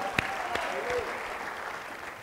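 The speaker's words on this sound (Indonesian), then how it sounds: "Kita berikan tepuk tangan yang paling meriah buat song ministry kita dong" Church congregation applauds the song ministry at a Sunday service, a dense, even patter of many hands at moderate level, with a couple of sharper claps standing out at the start.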